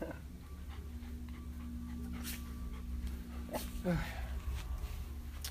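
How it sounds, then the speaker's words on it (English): Several dogs pant and whimper softly close by, a steady breathy texture with brief whines, over a low constant background hum. "So we have all the dogs here"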